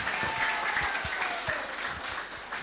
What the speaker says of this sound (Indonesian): Aplaus dulu untuk nomor 3.